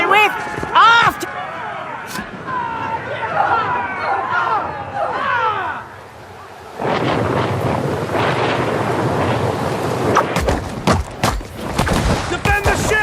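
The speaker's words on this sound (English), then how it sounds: "Storm's picking up!" Stormy sea aboard a ship in the video game Pillars of Eternity II: Deadfire, with a broad rushing roar of wind and waves and sharp thunder-like bursts near the end, under frequent voices shouting.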